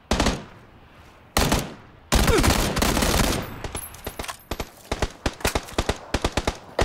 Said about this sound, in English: Okay, I'm getting shot.